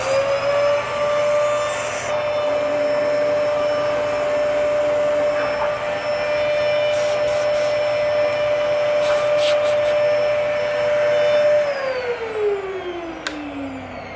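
Clogged Dyson vacuum cleaner on its carpet setting, running with a loud steady motor whine and strong tonal hum before the pitch drops as it begins to power down near the end.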